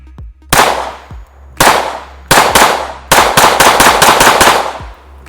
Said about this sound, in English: Rapid shots, I'm just gonna shoot towards the berm here.